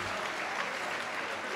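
A gala night audience celebrating a chapter's 40th anniversary bursts into a big round of applause, a dense, continuous wash of clapping from a large crowd, steady and full with no voices over it.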